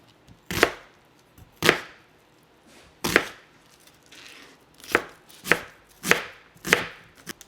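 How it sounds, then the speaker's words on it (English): A knife chops through half an onion on a cutting board in about eight sharp, separate strokes, close and crisp, with short pauses between them and no talking. "So I'm going to go ahead and start chopping it up"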